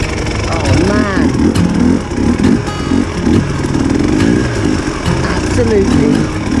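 Dirt bike engine running with a rough buzzing, fluctuating drone, close and loud, while people talk over it.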